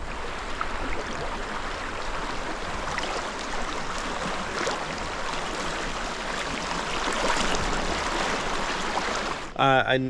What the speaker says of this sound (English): This stream is spring fed, and I found one of the outlets of the spring here.